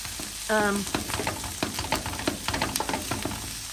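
Onions frying toward brown caramelization in an old, slightly warped pan in an off-grid cabin, crackling steadily with repeated scraping stirs; a brief tonal squeak near the start.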